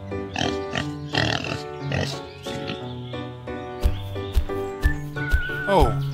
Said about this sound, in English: The pig with its piglets is lazing around today